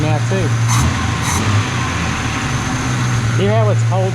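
A Ford Falcon ute engine runs close and loud, holding a raised steady rev for several seconds before easing back, while a person talks over it.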